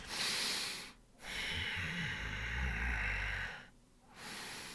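A voice imitates a deep snoring beast: two long rasping breaths, each separated by a short pause, close and fairly loud.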